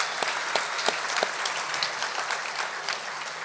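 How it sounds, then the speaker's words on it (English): A crowd at a livestock auctioneer championship awards ceremony claps steadily, a dense, even patter of many hands with a few sharper claps standing out, sustained throughout without a voice over it. "Guys, can we give them another round of applause?"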